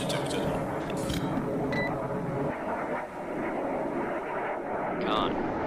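A carrier-based aircraft over a naval battle in the submarine game Cold Waters: a steady, rumbling engine roar close by, with short electronic beeps and tones cutting in over it.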